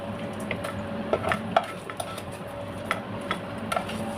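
Whole spices roast in hot oil in a pan while Mangalore chicken curry is being prepared, giving a low sizzle under scattered sharp clicks and scrapes from stirring, close and moderately loud.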